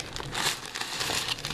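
Packing paper from a Right Stuff manga shipment box crinkles and rustles up close in quick, continuous handling, fairly soft, with no voices.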